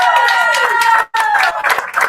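A round of applause for a team at a sectionals assignment show watch party brings sustained clapping and cheering, with voices calling out through it and a brief dip partway.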